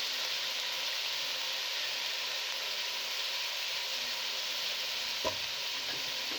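Cabbage for a gobhi aloo sabzi sizzles in hot oil in a pan. The hiss is steady and broadband, close and even throughout, with one brief utensil knock near the end and no speech.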